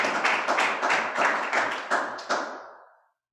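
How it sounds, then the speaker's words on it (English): Sparse clapping from a small audience at a poetry reading, a handful of uneven claps repeating for about three seconds before stopping. "You all give Debbie a round of applause"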